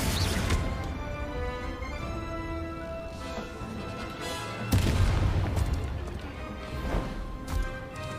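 Bombarda and Confringo spell blasts in the Hogwarts Legacy video game: a few booming, crashing impacts, a strong one midway and another near the end, over a dense bed of game music and effects.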